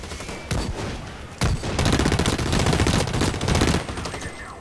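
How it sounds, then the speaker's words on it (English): Sustained automatic gunfire in the Blacklight Retribution shooter, loud, dense bursts of rapid shots with a brief pause after the first half-second, then continuous heavy firing without speech. "I put so many bullets into that."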